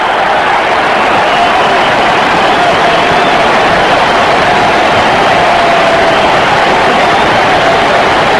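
A sellout crowd at a World Series baseball game between the Mets and Yankees roars in a dense, sustained wash of cheering that stays loud and even throughout.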